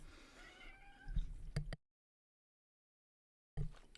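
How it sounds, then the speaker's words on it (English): A pet cat meows a few times, close and fairly loud, with a drawn-out yowl followed by short cries, broken by a stretch of total silence before another brief sound. "I've got my cat yelling at me."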